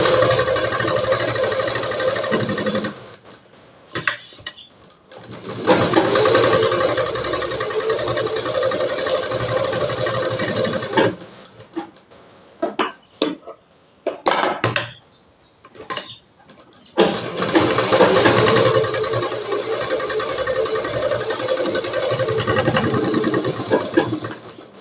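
Sewing machine stitching a joining seam on a double katori blouse: long bursts of rapid, loud mechanical whirring and ticking, with short stop-start runs in between.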